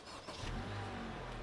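A car pulls away slowly on a road beside a forest, its engine rumbling low and rising gently as it moves off, fairly quiet and near.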